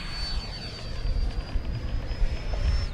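A Dragon Hobby HSD 90mm Viper RC jet flies overhead, its electric ducted fan giving a steady high whine with a sustained tone and broad rushing air, loud and close, with no talking.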